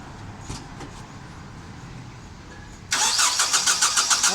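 Nissan Navara with a misfire fault code P0304 and a bad injector being started: faint shop background, then a starter cranks in rapid pulses near the end, loud and close.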